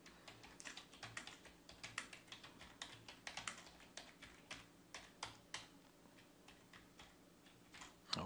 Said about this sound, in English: you can type a reply there